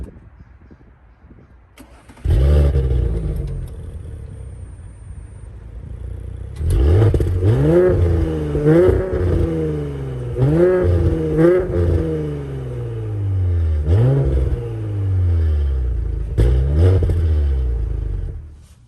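A 2019 Audi S5 Sportback's exhaust, recorded from outside, starts up and then revs repeatedly in sharp, loud blips that rise and fall over a rumbling idle, with several distinct bursts spaced across the stretch.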